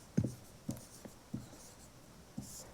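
A pen or chalk writing a chemistry equation by hand for calcium oxide and carbon dioxide, heard as quiet, close, irregular tapping strokes at a slow pace.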